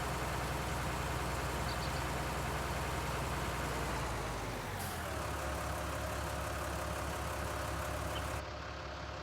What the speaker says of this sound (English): Definitely has a different engine sound than the 4-cylinder version.